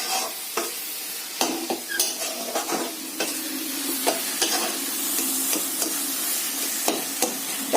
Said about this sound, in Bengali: আমরা এটাকে নেড়েই যাব।